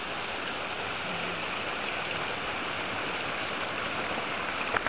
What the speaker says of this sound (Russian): Вот туда падает водопад, который мы видели снизу.